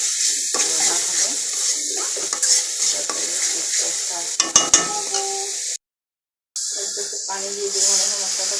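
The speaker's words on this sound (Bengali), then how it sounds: "ভাজা মাছটা মশলাটা ভালোভাবে দিয়ে কষিয়ে তারপর" Tilapia fish fries with masala in a pan, a steady loud sizzle with repeated scraping stirs and a short silent break midway; a voice speaks at times.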